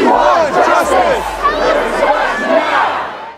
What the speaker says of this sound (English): a large crowd gathered outside the administrative building, holding portraits of the missing persons and protesting